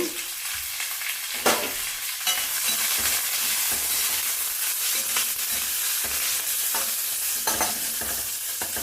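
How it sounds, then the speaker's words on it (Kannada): Cumin and mustard seeds with chopped onions frying in hot oil, a loud continuous sizzle with crackling and scraping stir strokes throughout, close up and steady, no voices. "ಎಣ್ಣೆ ಕಾದಿದೆ ಜೀರಿಗೆ ಸಾಸಿವೆ ಹಾಕ್ತಾ ಇದ್ದೀನಿ ಈಗ ಅದ್ರ ಜೊತೆ ಈರುಳ್ಳಿ ಹಾಕ್ಕೊತಾ ಇದ್ದೀನಿ"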